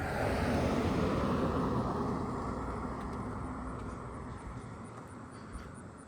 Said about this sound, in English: And here comes another car.